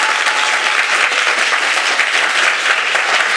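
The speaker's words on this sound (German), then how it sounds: "gebt mir euren Applaus für die Maike" Loud, dense applause from a crowd at a science slam in Freiburg, continuous and even throughout, close and filling the room.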